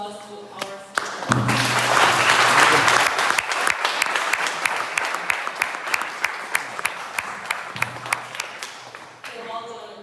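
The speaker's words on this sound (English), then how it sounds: "Please give a round of applause to our speaker" Audience at a Toastmasters event breaks into loud applause for a speaker, a dense burst of clapping that swells, then thins into scattered individual claps before voices return at the end.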